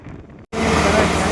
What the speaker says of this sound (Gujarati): મસ્ત ઠંડો ઠંડો પવન આવે છે